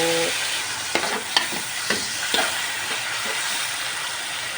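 Steady sizzling and frying of garlic in a hot pan, with a few soft scraping stirs, close and continuous without talking.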